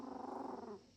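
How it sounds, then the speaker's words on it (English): Schnoodle puppy growling in a low, rumbling, throaty vocalisation with a pulsing rhythm, close and fairly quiet, tapering off near the end and resembling a Wookiee's grumble. "Sounds just like Chewbacca when it does this."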